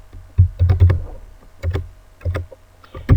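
Code is typed on a computer keyboard in short bursts of quick clicking keystrokes with brief pauses between them, close and clear with no talking.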